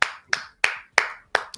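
Five sharp, evenly spaced hand claps, close and loud, each with a short decaying tail, welcoming guests Shawn Ellington and Keith Haney on a talk show.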